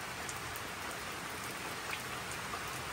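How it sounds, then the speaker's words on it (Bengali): Heavy rain pours down in a steady, dense hiss that stays loud and unbroken from start to finish, with no voices. "জোরে জোরে বৃষ্টি আয়"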